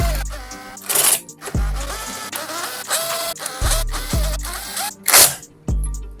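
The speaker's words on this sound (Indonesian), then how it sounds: "Sekarang waktu kita kenceng-kencengin." Bolts being tightened one after another while assembling a Vespa GTS scooter's engine casing, giving bursts of metallic clicking and whirring from a tool, with short pauses between.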